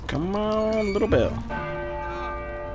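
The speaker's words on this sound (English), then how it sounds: "Come on, little bell." A bell rings out in Uncharted 4 with loud, resonant strikes whose ringing tones sustain and overlap, then decay into a long, shimmering hum. A brief clatter breaks in midway and there is no talking.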